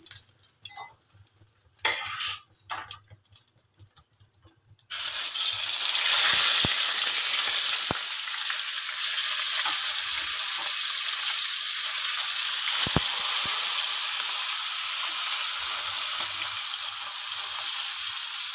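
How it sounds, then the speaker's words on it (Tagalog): Tilapia fries in a hot pan in a home kitchen, a loud, steady crackling sizzle that bursts in after a few seconds of quieter clatter and keeps going without talk. "ang ating piritong tilapia"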